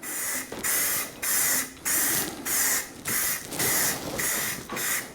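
Rust-Oleum spray paint can spraying onto an 8-inch PVC tube in about eight steady, evenly spaced bursts, each a loud close hiss of roughly half a second, with no talking.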